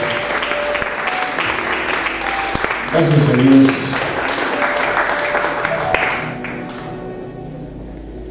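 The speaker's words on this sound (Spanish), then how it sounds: "¿Lo puedes dar un fuerte aplauso?" A Spanish-speaking church congregation claps in strong, sustained applause during a worship service, with a brief louder burst partway through. A voice speaks over the clapping, which fades away near the end.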